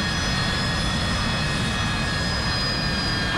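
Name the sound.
AV-8B Harrier II jet engine landing in DCS World video game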